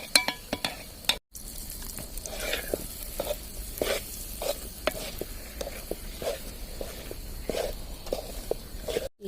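A wheat burfi mixture is stirred in a pan, with repeated soft scraping and clinking strokes of a spoon against metal over a faint sizzle, fairly quiet and close, with no talking.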